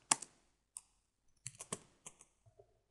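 Typing on a computer keyboard, a few sparse, quiet key clicks in short bursts with pauses between them, heard close and alone in a quiet room.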